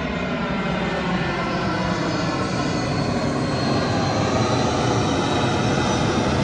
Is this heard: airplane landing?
yes